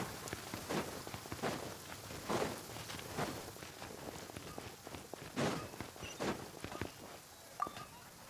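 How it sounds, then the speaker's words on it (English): Rain falls steadily in the video game Genshin Impact, a soft constant patter with rhythmic footsteps thudding through it at a moderate, even pace. "The rain won't slow me down."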